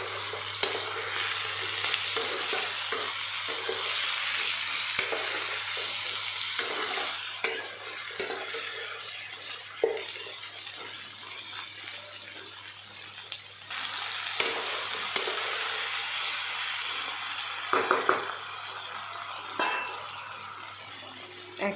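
Slit green chillies and taro stems frying in a pan, a long steady close sizzle with repeated stirring scrapes and occasional clatters of utensils.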